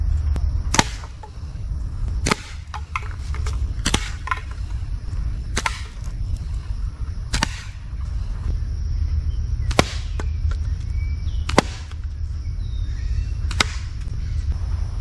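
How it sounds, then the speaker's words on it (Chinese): A rapid-fire slingshot with round rubber bands is shot outdoors, giving about ten sharp snapping shots at roughly even spacing over a low steady background rumble, with no speech. "这个速射弹弓射速比较快，我们都可以看到。"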